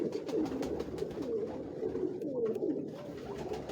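Pigeons of a distinct old line, dating from 1975 to 1978, coo in rolling, repeated low swooping calls on a Lahore rooftop, several birds close by in a continuous chorus.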